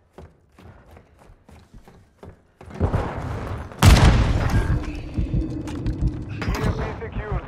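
A loud booming blast from an EMP detonation in Call of Duty: Modern Warfare II multiplayer hits suddenly and rolls into a sustained rumble after a stretch of quiet talk and faint clicks, with voices continuing underneath.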